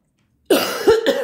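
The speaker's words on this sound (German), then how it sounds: "Und wieder Husten." A woman gives a single sharp cough at close range, then a rougher second burst, loud against the silence before it.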